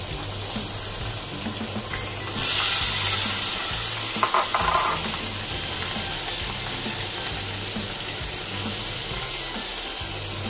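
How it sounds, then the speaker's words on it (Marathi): Paneer pieces shallow-frying in oil in a pan, a continuous dense sizzle with a louder surge partway through and faint clinks, close and steady, no speech. "पनीर आपल्याला फ्राय करून घ्यायचे तेलामध्ये."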